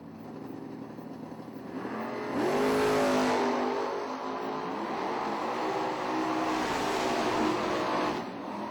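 Drag racing cars, a Mustang and a Vega wagon, roar as their engines surge loudly, holding a strong revving drone for several seconds before easing off.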